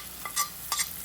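Ground coriander-cumin and red chilli are stirred into a sizzling mix for mung bean parathas, heard as two quick, close spoon scrapes over a quiet frying hiss.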